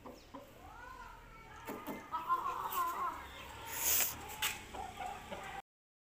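Aseel chickens and roosters cluck in a village yard, several birds making short, irregular calls at mid distance, with faint voices in the background.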